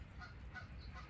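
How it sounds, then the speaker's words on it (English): Several geese honking outdoors in a small group, faint and distant, a few short repeated calls over low background rumble. "I just want to have a good time with the geese."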